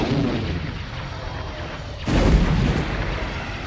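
A heavy boom of concussion missiles striking a destroyer bursts out halfway through a Star Wars space-battle audio drama, breaking a steady rumbling background with a loud, rolling blast.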